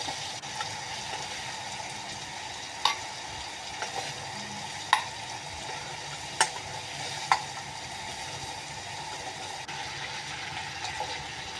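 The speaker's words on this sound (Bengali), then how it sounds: "ওই পাশে আবার চিংড়ি মাছ ভাজা বসাই দিছি তরকারির জন্য" Prawns frying in hot oil, a steady close sizzle with several sharp taps and clinks of a utensil scattered throughout, no voices.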